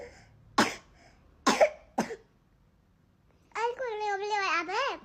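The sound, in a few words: child coughing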